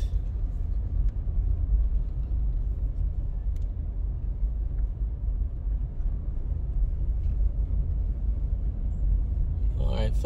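A car drives along Ardenne Road near Ardenne High School off Oak Road, heard from inside as a steady, even low rumble of engine and road noise throughout.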